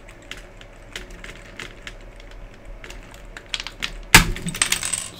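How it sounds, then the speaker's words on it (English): Keycaps being pried off a Commodore Amiga 500 keyboard with a tool: scattered light plastic clicks and taps, then a sharp loud snap near the end followed by rattling clicks, close and alone. "we pulled the first key, and they can be on quite hard"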